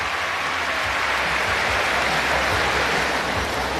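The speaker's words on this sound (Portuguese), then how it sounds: "a torcida da Croácia está vibrando porque tem croata no pódio" Croatian crowd at a gymnastics World Challenge Cup in Osijek, a dense, continuous roar of cheering and applause filling the arena at a steady, loud level throughout.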